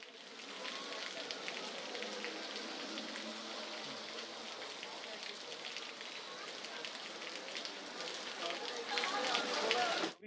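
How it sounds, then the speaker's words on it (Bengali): Steady rain falls during a low-pressure weather system over Bhola on the Bangladesh coast, a dense unbroken hiss that holds throughout and swells slightly near the end. "বৃষ্টি হচ্ছে।"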